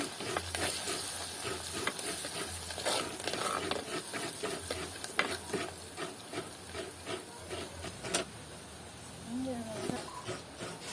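Spices temper in hot oil for a coconut-milk Jaffna sothi, a busy crackling sizzle with spattering pops and stirring, close and steady while a voice talks over it.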